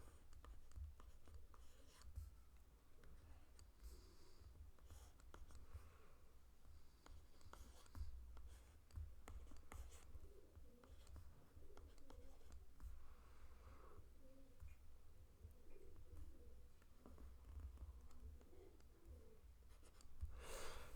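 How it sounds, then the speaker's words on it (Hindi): A graph is drawn by hand with very quiet, scratchy writing strokes that come and go across about twenty seconds in a still room. "मैं ग्राफ बनाता हूँ।"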